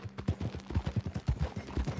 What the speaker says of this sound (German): mit dem Arthur auf seinem neuen Pferd